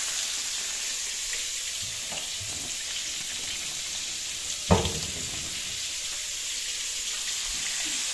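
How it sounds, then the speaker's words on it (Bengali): Fish frying in a pan in a village kitchen, a steady broad sizzle holding at an even level throughout, with a single brief clatter near the middle and no voices. "চলো মাছগুলো ভেজে নিই।"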